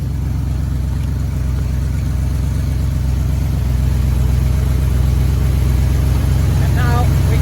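Car engine idling steadily after a transmission repair, a loud, close, even low rumble that runs throughout, with a person talking over it.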